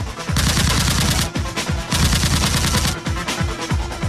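Rapid bursts of heavy 30 mm aircraft cannon fire, several long rattling volleys in a row, loud and close with no voices.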